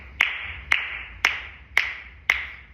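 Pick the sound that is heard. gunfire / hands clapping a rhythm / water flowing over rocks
hands clapping a rhythm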